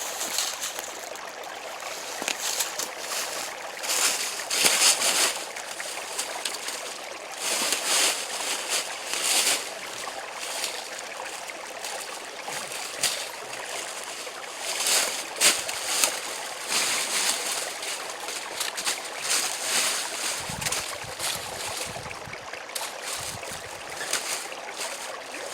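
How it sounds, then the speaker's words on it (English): Steady rushing of a creek by the Snake Hole pit shelter, a broadband trickling wash running continuously close by, with occasional splashes and faint low knocks near the end. "You can probably hear the creek behind you"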